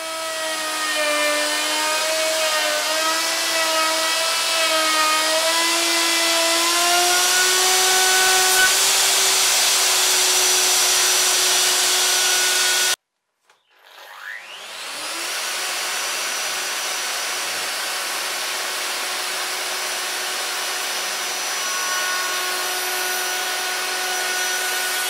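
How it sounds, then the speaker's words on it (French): A wood router with dust extraction runs loud and close, its pitch wavering as it cuts treated pine, then cuts off abruptly. The motor then spins back up to a steadier whine. "Je suis bien content que l'aspiration de la défonceuse soit efficace"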